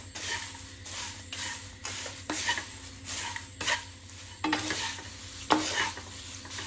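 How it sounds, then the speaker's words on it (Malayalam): Poha mixture being tossed with salt in a pan, with repeated rhythmic scraping and rustling strokes of a spoon, close and fairly quiet, and a faint sizzle underneath. "ഇനി ഇത് നന്നായിട്ട് മിക്സ് ആക്കുക ഇതിലെല്ലാത്തിലും"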